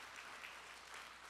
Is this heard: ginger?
no